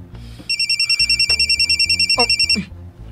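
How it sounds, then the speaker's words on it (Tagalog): Cellphone ringing in a Cebuano drama scene, a loud electronic ringtone pulsing in rapid even beeps for about two seconds before stopping, with brief faint room sounds around it. "Ang cellphone."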